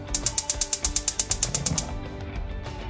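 A stove burner is switched on with a rapid, even series of about a dozen sharp ticking clicks, close and fairly loud, before fading into a soft rushing hiss.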